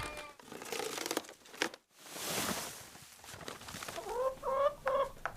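Hens cluck and murmur nearby in a barn with rustling and shuffling movement, building to a run of louder, rhythmic clucks toward the end.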